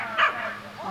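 A puppy gives one short, high yip-like bark at a big dog, close and brief, with faint background voices.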